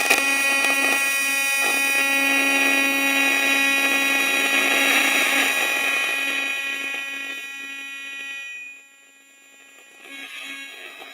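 Steady high-pitched electric buzz and hiss of a TIG welding arc on magnesium in a workshop, continuous and fairly loud, fading out near the end before a short restart.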